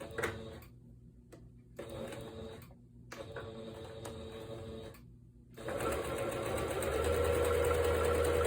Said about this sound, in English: I use the sewing machine